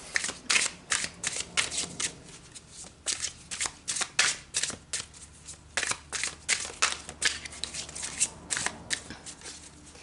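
Tarot cards are shuffled by hand, with a long run of quick riffling and snapping card sounds in irregular bursts, close and distinct against a quiet room.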